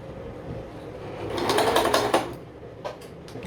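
A Vigorelli 238 sewing machine stitching a buttonhole runs in a rapid, steady whir that swells for about a second, then cuts off, followed by a few quiet mechanical clicks.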